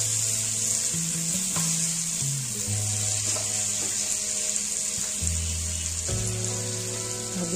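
Stuffed brinjal curry (gutti vankaya) frying in a little oil, giving a steady close-up hiss and sizzle throughout, with soft tonal music underneath and no talking.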